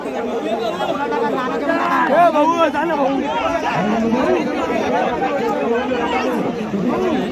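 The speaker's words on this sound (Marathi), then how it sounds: "इथे जल्लोष होताना दिसतोय आपल्याला" A festive crowd roars and chatters in celebration after a bullock cart race win, with many voices overlapping in a dense, steady hubbub that swells briefly before settling into continuous babble.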